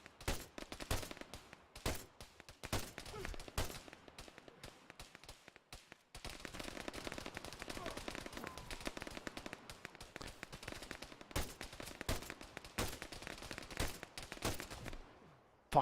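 Gunfire in the combat video game Arma, rapid sharp shots in short bursts and sustained volleys, fairly quiet and continuous with brief gaps.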